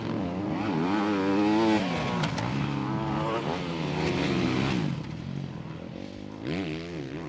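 Motocross bike, a 250 or 450 four-stroke, racing a hot lap with a loud nearby engine whose pitch repeatedly rises and falls through revving and shifting, overlaid by a voice speaking throughout.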